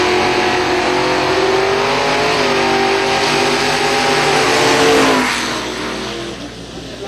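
Drag race launch of a Corvette and an 89 Mustang at a raceway: a loud, continuous engine roar with rising revs that holds steady close by, then fades as the cars pull away.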